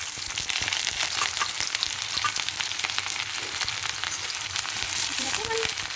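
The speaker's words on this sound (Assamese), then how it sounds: "মই ইয়াত পিয়াজ আৰু শুকান জলকীয়া এনেকৈ দি দিছোঁ" Sliced onions and dried red chillies frying in very hot oil in a home kitchen, a steady loud crackling sizzle throughout with a brief stirring scrape near the end.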